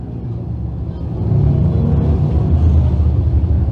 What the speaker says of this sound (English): The Panther Frameworks Crate Sprint Cars.